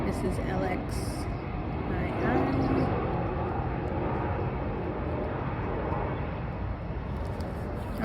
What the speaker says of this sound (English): I am right under the path of airplane traffic